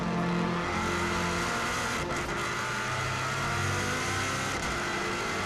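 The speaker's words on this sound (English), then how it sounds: "real hard braking all the way down into second gear for Ramsey Parliament Square" A 550+ hp Subaru WRX STI time-attack car on the Isle of Man TT course brakes hard and downshifts into second gear, its engine a loud, continuous close-up roar with blips and a brief tyre chirp midway.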